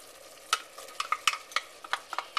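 Carrots are added to olive oil in a pan for marinara sauce, giving a soft frying hiss with a dozen sharp spoon-and-pan clicks as they are stirred, near and fairly quiet.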